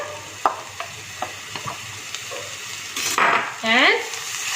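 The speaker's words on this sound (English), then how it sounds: "So we just give it a nice fry till all the onions turn little golden brown." Onions and mustard greens frying in a clay pot, a constant sizzle with light clinks and scrapes of stirring, swelling near the end as the food is moved around.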